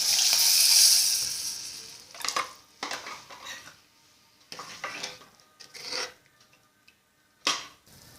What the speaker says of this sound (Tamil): பாருங்கள், நல்லா கொதிக்கிறது.